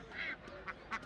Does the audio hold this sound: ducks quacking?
yes